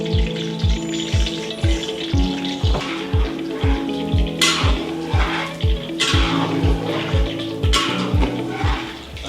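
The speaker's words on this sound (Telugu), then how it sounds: "సో డీప్ ఫ్రై చేయాలి" Marinated chicken deep frying in hot oil, a steady bubbling sizzle with a regular low rhythmic pulse underneath and a couple of louder splashy bursts, close and loud.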